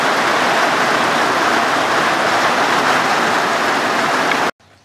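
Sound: rain falling during a bike ride

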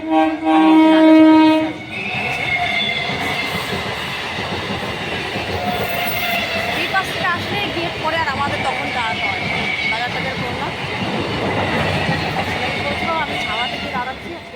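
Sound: train passing a level crossing

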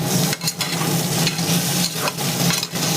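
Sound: stirring ginger frying in a pan

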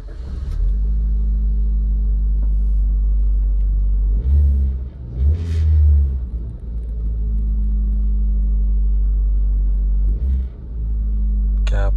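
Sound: Suzuki Swift car engine starting up and revving

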